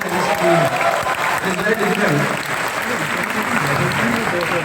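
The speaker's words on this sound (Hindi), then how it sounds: "तो एक बार फिर से उनके लिए जोरदार तालियां बजा दीजिए।" A university audience at IIT-BHU applauds a speaker, with loud, sustained clapping from a large hall crowd and some voices mixed in beneath it.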